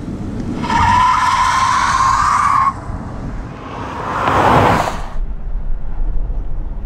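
A 1968 short-wheelbase Porsche 911 converted to Tesla electric drive squeals its tires in a long sustained skid, then a second shorter screech follows, with a steady motor whine and road rumble underneath and no engine roar.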